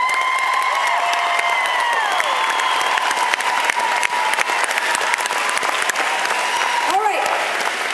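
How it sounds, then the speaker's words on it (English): A concert audience at TCU Place in Saskatoon applauds and cheers for a concert: dense, steady clapping fills the whole stretch, with whoops and whistles rising above it and scattered voices in the crowd. "A huge round of applause for the talented, lovely, and apparently cat whisperer"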